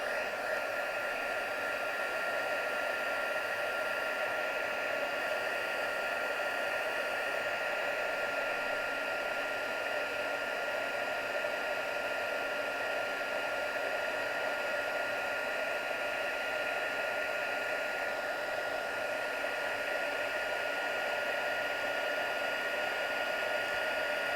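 Heat gun melting gold embossing powder on a Christmas card, a steady, even blowing hiss that runs unbroken and fairly loud for the whole stretch, with no voices over it.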